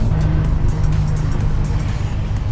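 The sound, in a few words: car driving on road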